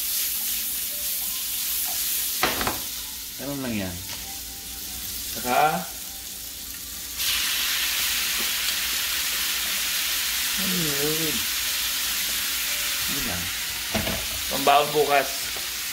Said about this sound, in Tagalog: gisayin na natin yung baka. Lagyan natin yung sibuyas.